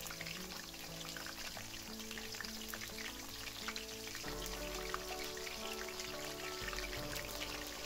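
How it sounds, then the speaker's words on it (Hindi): Bitter gourds (karela) fry in hot oil with a steady, dense sizzle and spitting crackle, continuous and close throughout with no voices. "दो तीन मिनट के लिए इनको मैं फ्राई करूंगी तेल के अंदर"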